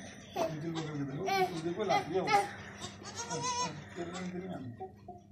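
Goats and their kids bleat repeatedly at close range on a farm, their cries mixing with overlapping talk from people nearby.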